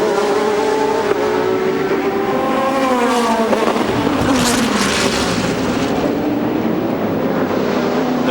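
Race cars, among them a Ferrari, roar past on a street circuit during the 2007 Detroit Sports Car Challenge, with loud, continuous engine drone and rising and falling pitch as they pass close by.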